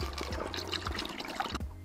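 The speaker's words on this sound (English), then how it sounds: "top off with water till I get to about 1 liter" Water pours through a funnel into a container to top it up to about one liter for storing yeast, a brief close gurgling stream with small splashes.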